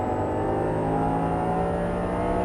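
An Audi R8 V10 accelerating under throttle on a driving course. The engine gives a continuous, loud, steady drone heard close, as if from inside the cabin, with no pauses.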